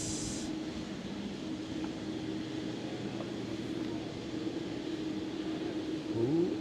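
A Lufthansa Cityline airliner passes at Schiphol airport as a broad, steady jet rumble from a distance, with people speaking now and then.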